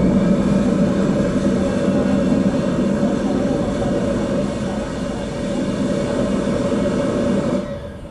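An airplane lands in the Infinite Flight video game, its engine drone a steady low roar and hum that holds for several seconds before fading slightly at the end.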